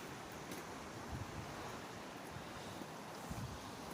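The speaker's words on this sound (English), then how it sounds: "This running water is from the waterfalls I showed you before." Running water from a waterfall-fed stream in the Black Forest town of Schramberg flows as a soft, steady hiss, faint and even, with occasional light splashes and no voices.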